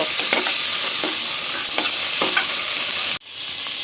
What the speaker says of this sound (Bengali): এখন আমি এখানে সজনেগুলো আগে দিয়ে দেব সজনেটা দিয়ে দিয়েছি আর একটু নাড়াচাড়া করে নিব